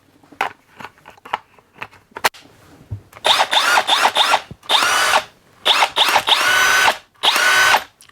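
Hercules brushless hammer drill, item 59419, battery powered, whirring in several short bursts of a few seconds each after some faint handling clicks, close and loud with brief pauses between runs.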